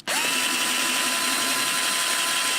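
A power drill tightens a bolt on the arm bracket of an Osaki OS-4000 zero gravity massage chair, a steady close whir that starts abruptly and holds constant throughout with no talk.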